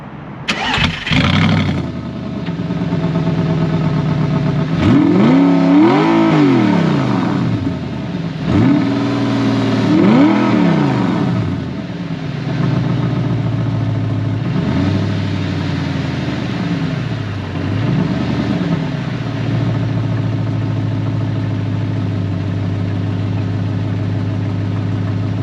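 A 2009 Audi R8 with the 4.2 V8 and gated six-speed starts with a sharp burst, then settles into a loud, close idle broken by several rising and falling revs through the exhaust.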